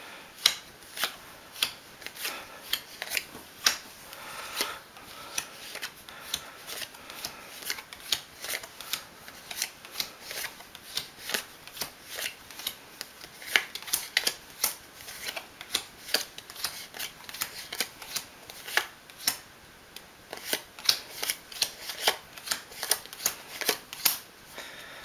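Playing cards dealt from a shuffled deck into seven solitaire piles, a steady run of crisp, close card snaps and slides across a table, repeating for about twenty-five seconds with no talking.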